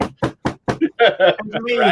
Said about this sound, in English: Looking at this, you hear his door.